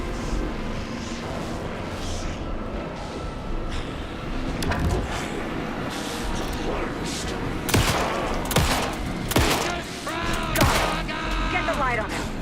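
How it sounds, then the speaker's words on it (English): Gunfire rings out in Alan Wake 2, rapid volleys of loud shots crackling over a dense rumbling background that builds in the second half with sharp repeated blasts. "Shoot him to pin him down."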